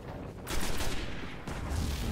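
An enemy ship in the video game Destiny fires on the player, dense bursts of rapid gunfire close and loud, broken by a couple of short gaps.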